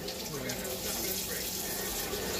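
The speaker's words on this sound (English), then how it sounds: "I'm going to rinse it out real quick." Hot tap water runs steadily from a faucet into a kitchen sink as it is rinsed out, a continuous close splashing stream that lasts throughout without a break.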